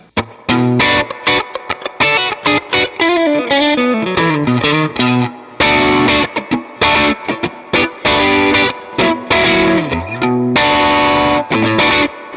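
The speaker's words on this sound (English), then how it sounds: "I do like to use the spring reverb that's in the amp." Electric guitar played through an amp with heavy, splashy spring reverb, chords and single-note runs ringing out loudly with a washy tail.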